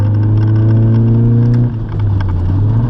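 A car engine revs up close, its steady hum climbing in pitch, then dropping briefly before pulling again as the car accelerates.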